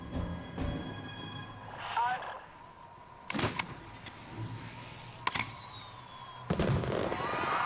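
Sharp bangs of a firework shell set off by touching a single 9-volt battery cell to the igniter, several distinct booms with crackling tails echoing outdoors, with voices talking in between.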